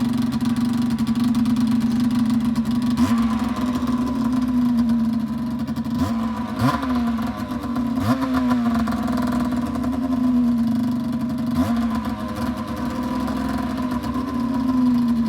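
A small pull-start engine idles steadily close by, a constant low drone with a few brief revs and surges throughout.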